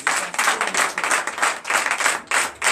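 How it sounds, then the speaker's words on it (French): Church congregation clapping together in a steady series of bursts during a Sunday worship service in Comè, Benin, loud and fairly close, with no talk over it. "Donnez l'acclamation à Christ."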